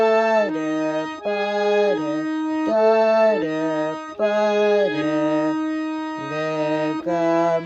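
A snake-charmer tune plays on a reedy melodic instrument, a steady sequence of sustained, bending notes in repeated phrases with short gaps, clear and close with no voices.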